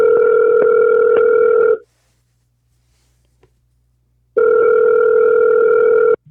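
A telephone rings loudly and steadily in two long bursts separated by a few seconds of silence, ahead of a prank phone call.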